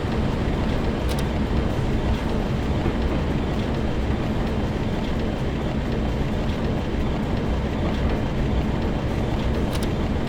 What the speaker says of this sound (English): Gotta love those old trains.